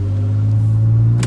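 A 2010 Nissan Maxima 3.5L V6 exhaust drones with a steady, low, loud rumble while cruising at light throttle, holding an even pitch throughout with a brief noise burst at the end.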